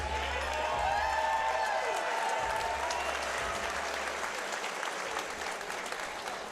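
A large crowd at a fight event in Omaha applauds and cheers loudly and continuously, with whistles and shouts rising above steady clapping.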